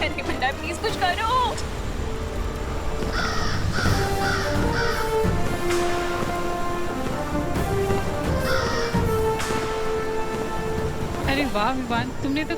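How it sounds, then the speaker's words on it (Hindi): A crow caws in short repeated bursts, grouped in clusters of three or four calls, loud and close over a busy background where voices also speak. "तुम उस त्रिनेत्री काक को सचमुच में ढूंढ लाए"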